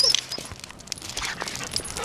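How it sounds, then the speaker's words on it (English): A puppy whimpers and yips in short, high, broken bursts close by, with faint background noise between the cries. "She is a puppy."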